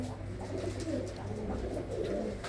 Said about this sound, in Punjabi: ਤੇ ਕਬੂਤਰ ਵੀ ਬੜੇ ਨਸਲੀ ਨਸਲੀ ਨੇ